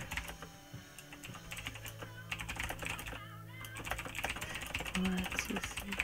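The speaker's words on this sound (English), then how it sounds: "I type and talk." Rapid, irregular clicking of computer keys rattles on throughout a live sewing and embroidery stream, fairly quiet and close, with a person talking over it at times.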